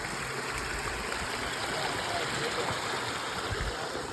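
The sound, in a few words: mountain stream water flowing, Glacier National Park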